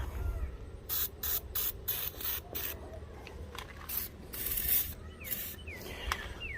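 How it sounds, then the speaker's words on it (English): Several short hissing bursts from an aerosol can of PB Blaster penetrating oil, sprayed in quick succession on seized parts of a K1500 truck, close and fairly loud, with faint clinks and rustling between them. "spray some good old PB blaster on all these to try to get them to break loose."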